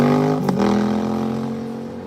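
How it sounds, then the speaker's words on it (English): A motorcycle engine hums steadily nearby with a brief rev partway through, then its drone slowly fades as it pulls away. "I found out recently that motorcycles don't need to make that sound, that people just do it for attention."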